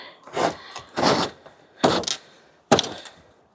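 A shed door in snowy weather being forced open, giving four separate heavy bursts of thudding, scraping wood spaced about a second apart, loud and close with no talk.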